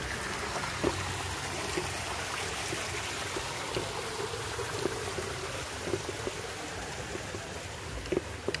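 Water trickles and flows steadily in a small rural stream in Antipolo, a soft continuous babble with occasional light splashes and no voices.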